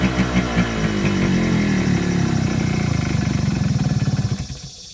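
A motorcycle engine runs close by, a steady rumbling idle that won't take throttle, holding a rough, uneven beat before sputtering and fading out at the end.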